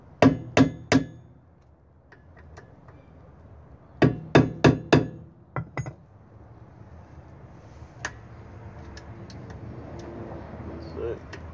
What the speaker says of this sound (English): So you grab a phillips screwdriver, you might get a hammer